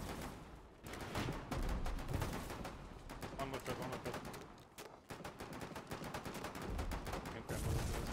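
Tank guns in the War Thunder video game fire as rapid automatic bursts, loud and close. The sharp cracks come in long, dense runs with short gaps between them.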